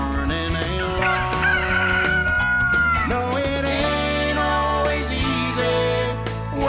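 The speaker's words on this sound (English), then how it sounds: "The sound of a rooster is morning." A cartoon rooster crows over cheerful farm-song music, its call blended into a dense, bright musical backing with no talking.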